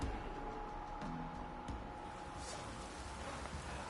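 Rain falls in the video game The Witcher, a soft, steady hiss of drops continuing throughout at low volume with a few faint clicks, no speech.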